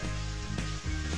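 Paneer cubes and softened tomatoes frying in a pan give a steady, close sizzle throughout, with a brief stirring scrape partway through and no talking.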